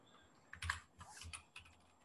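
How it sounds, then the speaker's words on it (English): Keys click on a computer keyboard as a command is typed in a terminal, a short quiet burst of several keystrokes in an uneven rhythm. "Type clear and return, Brooks."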